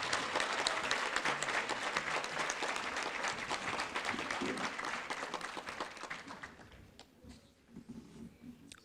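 An audience at a high school National Signing Day event applauds for seniors, dense sustained clapping that gradually thins and fades toward the end, with a faint voice underneath.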